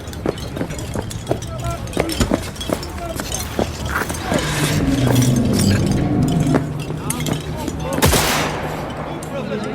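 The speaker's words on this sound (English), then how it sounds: "Opening fire." Rapid gunfire in the video game Cyberpunk 2077, dense cracking shots in quick bursts over a steady engine-like rumble, loud and continuous throughout with a sharp burst near the end.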